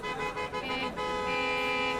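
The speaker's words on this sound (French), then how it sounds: "Un concours de klaxons se fait entendre proche du carrefour vers lequel je me dirige." Car horns honk near a city crossroads during a huge traffic jam with traffic at a standstill, several overlapping sustained tones blaring continuously amid the street noise.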